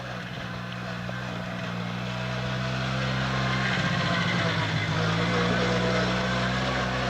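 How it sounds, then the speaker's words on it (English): A four-wheeler ATV rides up on a mountain trail at Mt Casey, its steady engine drone growing gradually louder and nearer, with a brief dip in pitch midway, with no talking. "here comes my client riding on the four-wheeler"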